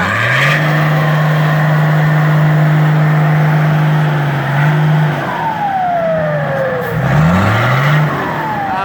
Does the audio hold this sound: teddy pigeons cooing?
no